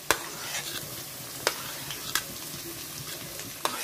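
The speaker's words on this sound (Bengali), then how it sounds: "এটাকে একটু ভাজা ভাজা করে নেব।" Chopped onion, ginger and chili frying in a pan, with a soft continuous sizzle and several sharp clicks of the stirring spoon against the pan, close and without talk.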